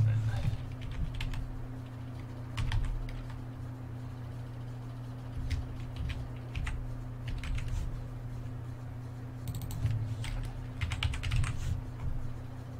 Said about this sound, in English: I just type it in then.